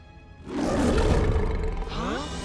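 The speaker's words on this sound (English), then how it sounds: "He tries again and lets out a stunning roar." Young lion cub Simba lets out a loud, swelling roar in The Lion King, rising to a full sustained bellow and tailing off into a wavering growl.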